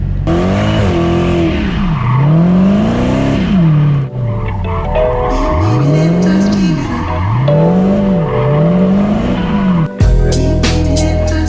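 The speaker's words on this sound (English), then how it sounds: "You guys want to do a donut?" A Dodge Hellcat doing donuts, engine revving in rising and falling sweeps with loud tire squeal and skidding, several looping passes close by, ending in a sharp clunk.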